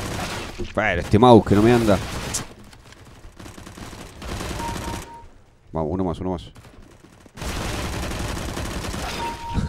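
Bursts of rapid gunfire from a Counter-Strike: Global Offensive match, loud repeated volleys in several clusters separated by short pauses, with a player talking over parts of it.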